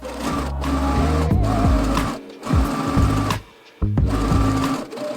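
Domestic sewing machine stitching elastic channels into a summer dress, running in steady close bursts of rapid mechanical whirring broken by short pauses, with no talking.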